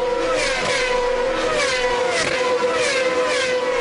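Onboard a 2006 GP2 race car driven by Lewis Hamilton at the Turkish Grand Prix, the engine screams at high pitch with shifting revs, loud and constant throughout.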